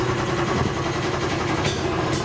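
A flooded Messerschmitt microcar engine turns over and catches, giving a short, close, steady low rumbling chug with a couple of brief hissy bursts near the end.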